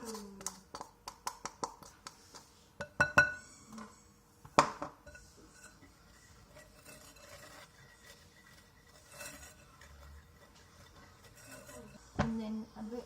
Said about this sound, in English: Now I'm going to add the cocoa powder and mix that all in.